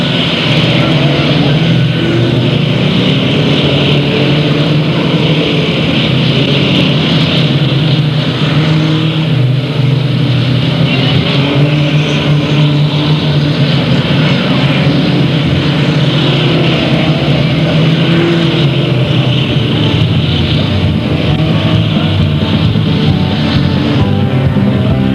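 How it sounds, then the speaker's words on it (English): Race cars roaring around the oval at Delta Speedway during a heat race, a continuous loud engine drone with rising and falling revs as cars pass, a commentator's voice faint underneath. "On the white flag lap, the 911 of Joe Butler takes control"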